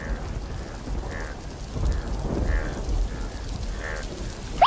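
Cartoon storm with a steady wash of rain and low thunder rumbling and swelling in slow waves beneath it, with no one talking.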